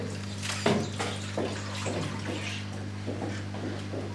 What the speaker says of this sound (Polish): Nalewamy wodę na przykład słoikiem, no wcześniej położony talerzyk.